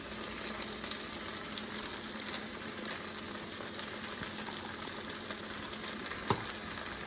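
Pad thai ingredients, including chives, peanuts and bean sprouts, fry over indirect heat with a steady, dense sizzle throughout, crackling evenly with one brief louder tap near the end.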